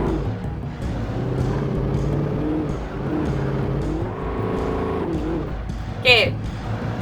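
Car driving in the video game Alan Wake, with a smoking, damaged engine: a steady low motor drone runs throughout under speech, with a brief sharp squeal near the end.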